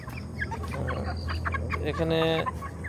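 Broiler chickens cluck and squawk at close range on a poultry farm of about four thousand birds, overlapping calls and one louder drawn-out squawk near the end, while people talk briefly nearby.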